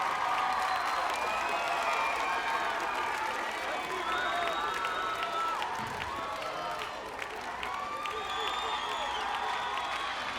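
A stadium crowd at an American Gladiators Swingshot event claps and cheers steadily for the whole stretch, with scattered whoops and whistles rising from the dense, constant applause.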